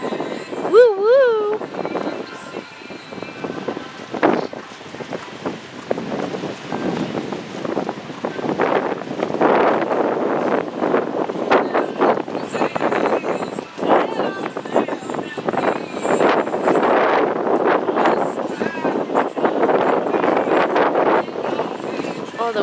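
Wind gusts outdoors at a desert shoot, a steady broad rush with buffeting against the microphone throughout, people talking over it.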